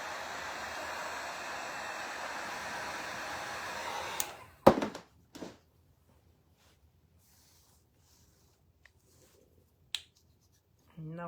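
A dryer blows in a steady, even whoosh over a freshly painted craft piece for about four seconds, then cuts off. A few sharp clicks and handling taps follow in near quiet.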